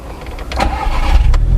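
A VW Scirocco starting up, a short crank followed by the engine catching and settling into a steady, loud low exhaust rumble close by.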